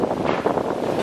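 Wind gusts across an open island lagoon in the Solomon Islands, roaring steadily against the microphone for about a second with a broad, buffeting rush and no voices.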